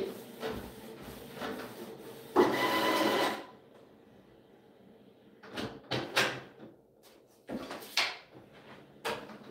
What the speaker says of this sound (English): running a whole printer test here, Libra.